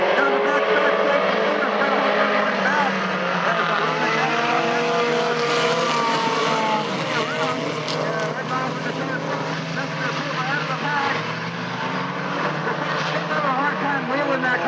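Race cars roar around an oval track during a main-event race. The engine drone is loud and continuous, rising and falling as the pack passes, with an announcer talking over it throughout.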